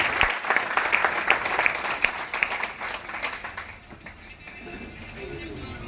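An audience at a couple's event applauds a woman as she is called up to speak, with dense, loud clapping that gradually thins and fades toward the end, with voices faintly underneath.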